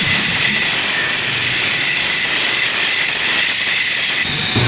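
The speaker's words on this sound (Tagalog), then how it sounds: "Remember to sharpen the blade on the side of the disc grinder." A disc grinder sharpens a paper cutter blade against the side of its disc, giving a loud, continuous high whine and hiss that holds steady throughout.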